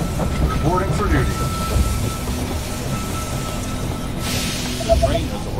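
A train pulls into the station in the strategy game They Are Billions. Rumbling rail noise with clickety-clack and a brief hiss continues throughout, and a short clipped voice line and game chimes sound over it.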